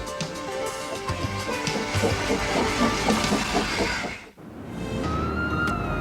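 A passenger train on the Ffestiniog Railway in Wales rumbles along the track into Blaenau Ffestiniog station with rhythmic clicking and hissing, briefly dipping before the steady running noise returns.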